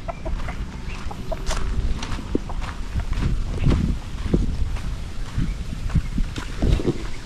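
Three hens clucking around a backyard in the Philippines, with scattered short clucks and calls close by over steady wind and outdoor background noise.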